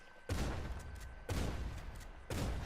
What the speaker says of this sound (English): you guys can actually access explosive rounds for your shotgun